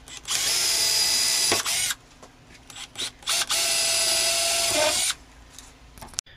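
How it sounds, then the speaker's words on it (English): A power drill whines loudly in two long bursts while drilling holes through a fence, each a couple of seconds, with a short pause and brief revving between them. "All you want to do is drill through these two holes through your fence."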